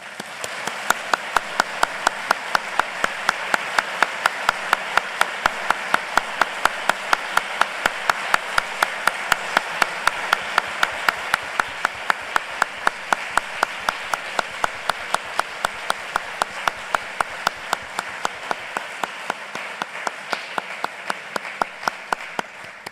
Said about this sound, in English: Please join me again in giving them a round of applause